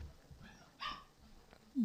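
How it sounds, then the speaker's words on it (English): A dog gives a few short, faint barks and yips indoors, the last one louder and sharper, with quiet background between them. "the dog is barking"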